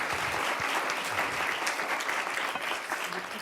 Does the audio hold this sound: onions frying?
no